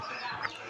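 A black hen gives a single short, faint cluck, heard alone with no talk.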